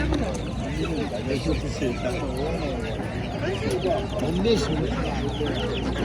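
Chickens cluck and a rooster calls in the background while several people talk loudly nearby in a noisy outdoor setting.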